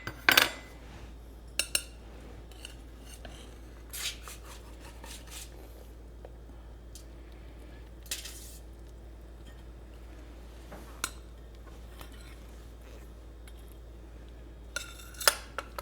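A knife and server cut and lift a slice of turkey pot pie from its dish, making sparse, quiet scrapes and clinks of metal on ceramic, scattered with long pauses between them.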